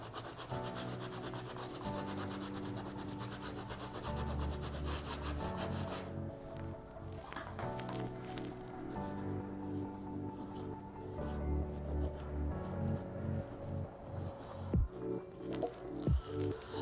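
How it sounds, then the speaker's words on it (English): Foam cleaner rubbed by hand onto a shoe stained with sauce and soft drink gives a steady, soft scrubbing friction that keeps running under a continuous musical background, with a few sharper scuffs near the end. "We'll apply a little bit foam here. And rub gently."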